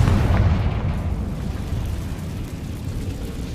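Confringo fire spell exploding in the Hogwarts Legacy video game, a heavy low boom at the start that rolls into a sustained rumbling blast and lingering noise for several seconds, with no talk.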